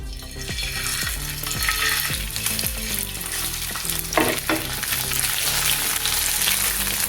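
Marinated fish fries in a hot pan for a Tamil flying-fish dish, giving a loud, continuous dense sizzle with crackling spatters and a brief watery burst partway through, close by and without talk.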